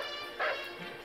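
A dog in a Japanese Spider-Man live-action trailer gives a short pair of barks, tonal and slightly whiny, over a steady background.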